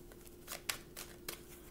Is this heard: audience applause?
no